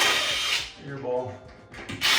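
A power drill drives a screw into a bathroom wall during a wall-mounted floating toilet installation. There are two short, close whirring bursts, one at each end, and a quiet gap between them.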